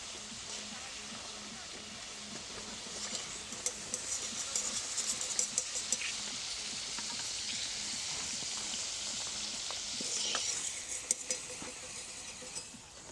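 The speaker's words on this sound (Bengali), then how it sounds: "আমি বাকি চিপসগুলো ভেজে নিচ্ছি" Constant, bright sizzling hiss of homemade tomato chips frying in hot oil, with occasional faint clicks and pops, steady throughout at moderate loudness.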